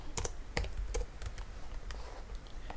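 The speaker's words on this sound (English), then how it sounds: "we can type in keys" Rapid keystrokes on a computer keyboard, close and fairly quiet, with sharp irregular clicks scattered across a few seconds and no voices.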